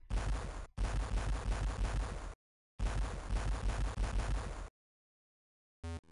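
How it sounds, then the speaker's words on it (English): Cartoon explosion sequence bursts out as loud, dense rattling blasts in two long bursts separated by silence, ending with a short clipped crackle. "That's explosion."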